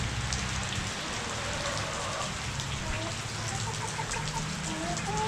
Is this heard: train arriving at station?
no